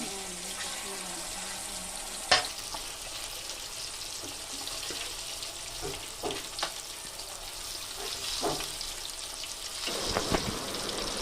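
Raw fish sizzles steadily in hot oil, a broad crackling hiss running throughout with a few sharper pops and spatters, one louder burst early on; it is close and moderately loud with no talk over it.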